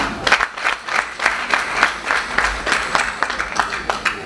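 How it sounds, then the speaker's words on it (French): Audience applause at a business event in Côte d'Ivoire honoring an innovative manager: a dense, steady burst of many hands clapping, sustained throughout at moderate level, with some faint voices mixed in. "Veuillez encore le applaudir."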